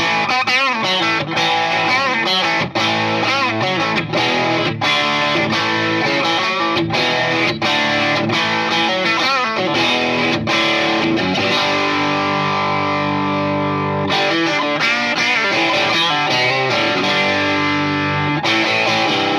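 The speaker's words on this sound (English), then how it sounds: "it still has that juicy tweaked Marshall lead channel" Electric guitar through the lead channel of a Tone King Imperial 20th Anniversary combo amp with tweaked Marshall-style voicing, playing a loud, continuous distorted lead line with sustained notes and quick runs, no voices.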